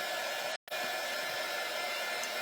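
A hair dryer blows steadily, drying paint on a Christmas tree craft, a loud constant whir with a brief cutout near the start before resuming.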